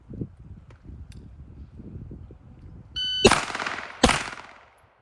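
Two sharp, loud gunshots ring out in a video game aim trainer after a quiet stretch of faint clicking and handling noise, each blast trailing off in a short echoing decay.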